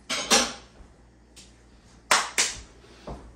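Baking pans are set down in a kitchen sink, giving several sharp metallic clanks in two clusters with a quieter knock between and one softer clunk at the end, close by with no talk.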